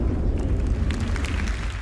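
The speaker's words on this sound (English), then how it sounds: "and the explosion itself." An explosion in the Star Citizen space game gives a continuous, heavy low-end roar with crackling debris on top, loud and close, with no talk over it.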